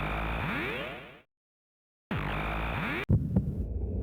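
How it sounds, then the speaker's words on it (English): A throbbing heartbeat sound effect in the video game Chrono Trigger, a steady pulsing hum that fades out, falls silent, returns loudly, then breaks into a short burst of other game effects. "There's that heartbeat."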